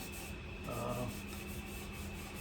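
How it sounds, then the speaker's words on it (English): An abrasive scrub pad rubs steadily over an uneven surface during a project, producing a soft, continuous scouring hiss, close but fairly quiet, with no talking. "there are areas that we're just running the surface by this abrasive scrub pad"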